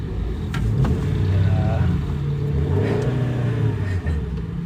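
A manual car engine hums at low revs while a learner drives at slow speed, a steady close rumble with mild swells of throttle heard from inside the cabin.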